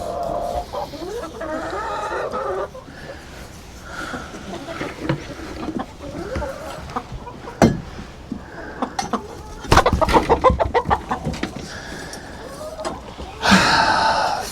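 Farm chickens cluck and squawk through a long stretch of close, busy barnyard sound, with scattered sharp calls and bursts of activity and a person talking now and then.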